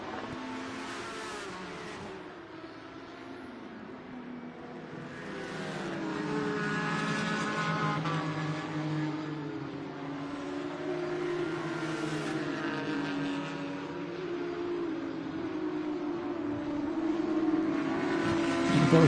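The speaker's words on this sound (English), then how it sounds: "Both Ferrari Maranello Cup contenders battling with Lou Yorio in the white number 3 as they go down into turn number 1" GT race cars, Ferrari Maranello Cup entries among them, race through turn one at Lime Rock, Connecticut: a steady, sustained engine roar from several cars passing at middle distance, swelling and fading as they go by.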